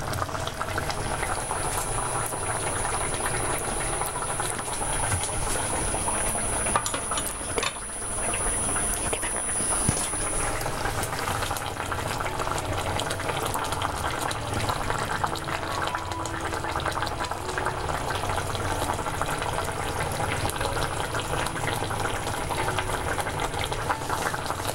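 Kerala king fish curry bubbling in a pot, a constant close boiling burble and crackle that runs steadily throughout with no voices.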